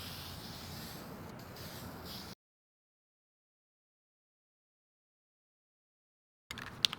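A spray gun lays a heavy, wet coat of wrinkle paint onto car door cards: a steady close hiss that stops abruptly, followed by a few seconds of silence and then a brief burst of faint handling noise.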